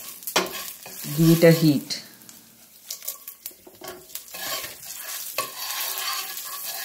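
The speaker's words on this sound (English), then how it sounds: "Allowing it to crackle. Here I'm adding some cumin seeds and some dried red chili." Cumin seeds and dried red chili crackle and sizzle in hot oil while cooking amaranth leaves, with busy popping through most of the stretch, a brief burst of tonal clatter early on and a short spoken phrase.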